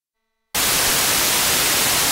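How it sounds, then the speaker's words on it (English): Half a second of silence, then loud, steady white noise hiss from a synthesizer module switches on abruptly and continues unchanged. "This is the white noise, the standard basic noise."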